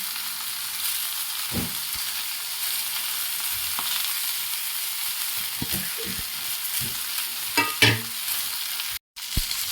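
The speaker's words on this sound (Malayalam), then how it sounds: "മുളക് ഫ്രൈ ചെയ്ത് ചെല്ലിടാം." Chilies frying in a pan for a special fish fry, a steady broadband sizzle with occasional clinks and stirring knocks, close and fairly quiet, with no talk.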